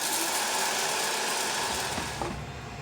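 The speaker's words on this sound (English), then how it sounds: "I'm going to put the lid on and grind them until fine." Blender with the lid on grinding Szechuan peppercorns, black peppercorns and whole cloves, a steady high whirring motor with a gritty rattle that eases slightly toward the end, close and continuous.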